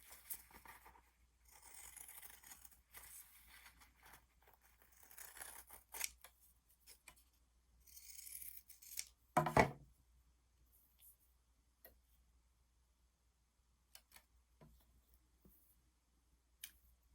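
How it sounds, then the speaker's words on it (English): Scissors trim around fabric stamps, quiet close snips and crisp clicks arriving in irregular bursts with pauses between, one sharper snap midway, no talking. "And then just trim all the way around."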